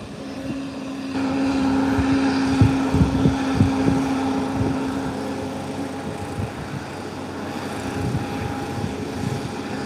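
An arriving airplane at an airport, its engine drone steady and moderately loud with a propeller-like hum that swells then slowly settles, heard from an overlooking vantage point without talk.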